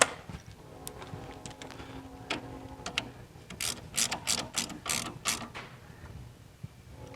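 A ratchet wrench clicks in quick bursts while working on a 1974 VW Super Beetle, close and moderately loud, with louder clustered ratcheting strokes in the middle of the clip.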